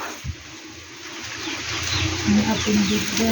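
Chickens murmur and cluck softly nearby, a few low calls rising toward the end over a quiet outdoor background.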